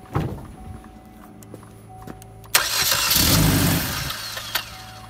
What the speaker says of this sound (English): Car starts, just doesn't want to stay running.